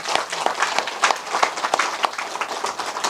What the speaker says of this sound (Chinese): 大家为我们黄埔十七期学员鼓掌